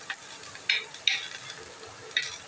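Spoon stirring vegetables (beans, peas, carrot) in a hot pan for ragi soup: soft sizzling under a few distinct scraping strokes, close and alone.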